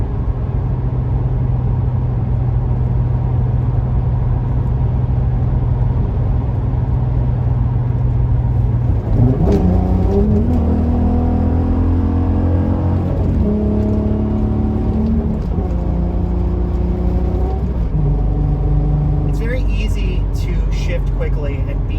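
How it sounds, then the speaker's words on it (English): A car's engine drones steadily from inside the cabin, then its pitch steps and shifts during a smooth, unhurried gear change from third to fourth. Someone talks over the engine throughout. "I'm very careful about how I grab that third to fourth gear shift"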